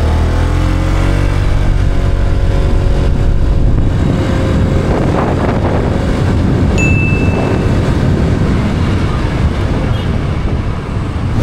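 Honda Giorno+ scooter with a four-valve engine pulls away and accelerates, a steady loud drone with rising pitch heard alone at close range for about eleven seconds.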